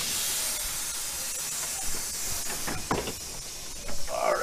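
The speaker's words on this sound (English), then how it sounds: "this is the oldest running quarter locomotive in California" An 1889 Porter steam locomotive with its original boiler gives off a steady, broad hiss of steam, close and constant, with a few faint knocks and a brief sharper spray near the end.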